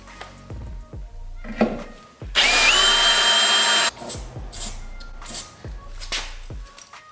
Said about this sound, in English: So we'll finish up drilling these holes.